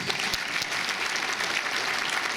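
Audience at an award ceremony claps in a dense, even burst of applause for an honoree, sustained at moderate loudness without a break.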